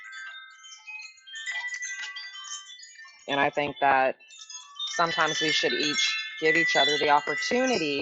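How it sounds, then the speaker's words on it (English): Wind chimes ring with bright, overlapping metallic tones that shimmer on and off across the whole stretch, heard under and between a person's speech. "Sorry about my wind chimes."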